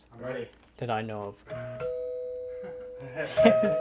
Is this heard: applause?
no